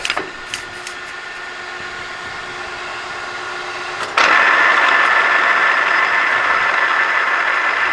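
Birmingham KGC-40120 horizontal engine lathe, 40 by 120 inch, chuck running with a steady mechanical hum, then a sudden loud jump in broadband whir as the spindle state changes, sustained to the end.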